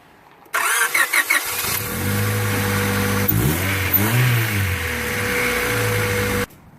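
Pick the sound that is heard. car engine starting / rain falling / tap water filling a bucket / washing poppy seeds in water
car engine starting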